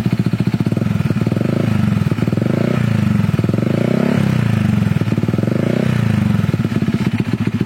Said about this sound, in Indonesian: suara knalpotnya seperti ini